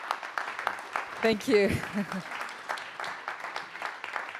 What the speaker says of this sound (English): I think we can give a great applause to them also